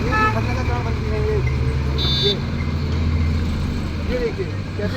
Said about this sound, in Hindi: ये देखिए कैसे गाड़ियाँ जा रही है